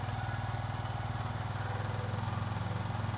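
A Yamaha Aerox, NMAX or Lexi scooter engine starts and settles into a steady, close idle, with a low, even throbbing pulse.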